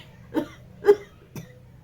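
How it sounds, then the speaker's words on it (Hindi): Three dry, short coughs spaced about half a second apart, close and fairly quiet, with no talking. "सूखी खांसी हो रही है"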